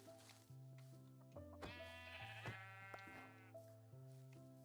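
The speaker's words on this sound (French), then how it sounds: "Oh, un mouton." A sheep in the Minecraft video game gives a single drawn-out bleat with a wavering, buzzy tone, faint and set against a steady low game hum.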